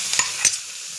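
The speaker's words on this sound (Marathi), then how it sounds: "आता मी टोमॅटो टाकत आहे." Tomatoes are stirred in a frying pan: two quick, close scrapes with a soft sizzle, then near quiet.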